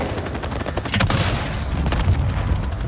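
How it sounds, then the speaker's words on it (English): Explosions and gunfire in the Call of Duty Modern Warfare video game during an armored combat mission, with a dense, loud wash of blasts and rapid shots that swells around the middle and stays heavy throughout. "Detonation."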